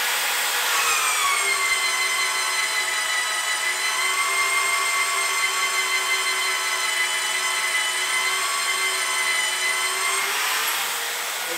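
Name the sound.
magnetic drill drilling steel holes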